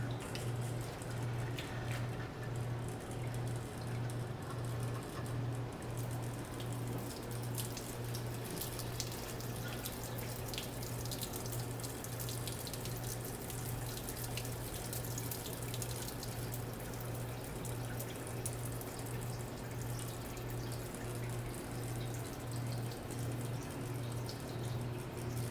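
Water spraying steadily inside a keg on a Frankenbrew keg washer during a rinse, a constant hissing wash with a steady low pump hum beneath it, loud and close throughout with no talk.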